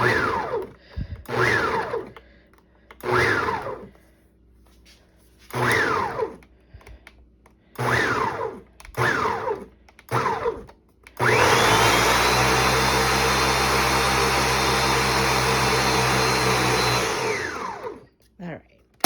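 A blender chops food in about eight short, loud pulses separated by brief pauses, then runs continuously for several seconds at a steady high whine before winding down.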